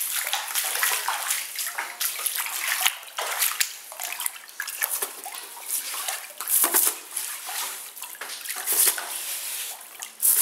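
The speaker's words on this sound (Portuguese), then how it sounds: "Entupiu o ralo. Tá entrando água lá dentro de casa." Water from a clogged drain floods into a house, making a continuous loud rush and splashing with sloshing surges throughout.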